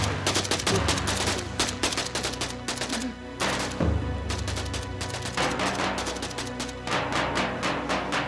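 Dense, continuous rapid-fire gunshots rattle on for several seconds, loud and sustained with only a brief break partway through.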